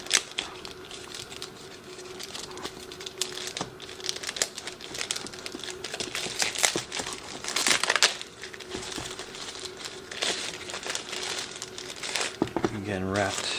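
A drone controller is unwrapped from its plastic wrapping, with close crinkling and crackling bursts of plastic throughout, a person's voice occasionally heard in the background.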